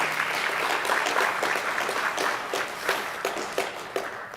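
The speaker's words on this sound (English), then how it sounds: "let's give a round of applause for VOICE" Audience applause at a university student and staff awards ceremony, a steady wash of many hands clapping at moderate level with a few sharper individual claps standing out, no voices.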